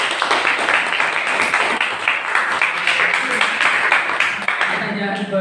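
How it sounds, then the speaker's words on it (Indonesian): Classroom applause as students clap for a classmate, a brief dense burst of hand clapping with voices mixed in. "Tepuk tangan buat Mbak Kaila."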